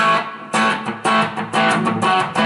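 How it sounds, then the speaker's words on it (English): An electric guitar played through the overdrive side of a Strymon Sunset pedal: several hard-driven, gritty chords are struck in a loose rhythm, each ringing briefly before the next, loud and alone. "Here's the overdrive pedal."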